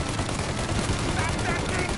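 Dense, continuous video game gunfire in Mafia, a sustained rattling barrage of shots filling the scene with no gaps, loud and close.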